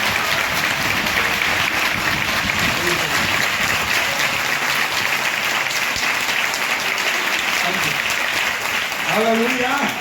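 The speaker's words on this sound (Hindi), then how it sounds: "हमारे प्रभु यीशु के लिए एक जोरदार ताली बजा के प्रभु को धन्यवाद" Church congregation at an army youth camp gathering claps loudly and continuously for about ten seconds, a dense even roar of hands in a large indoor crowd, with some voices rising near the end.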